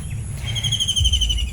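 Birds calling near a village riverbank, a few thin high whistling notes repeated over a low rumbling background, fairly close and clear.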